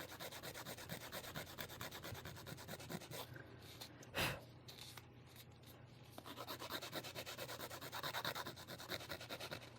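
Close, continuous scratchy rubbing of sanding on a small hard piece, with a brief pause and a single knock midway before the sanding resumes.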